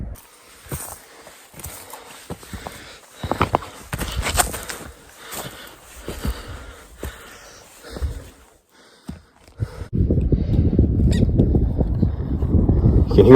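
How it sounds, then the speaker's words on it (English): Alarm calls of a marmot on a steep Alaska mountain trail, heard from a dirt bike ride: short honk-like barks repeated at a distance, followed by loud, rushing wind noise. "You can hear the marmot barking at us."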